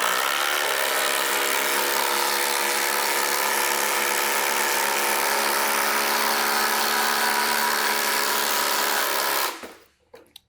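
A FLEX impact driver drives 3/8 by 6 inch lag fasteners into wood, hammering loud and steady for about nine seconds before stopping abruptly, up close with no talking.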